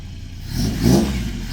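A 1984 Toyota pickup engine, newly tuned with fresh fuel pump, lines, header and full exhaust, revs once close by, swelling to a throaty peak and easing back within about a second.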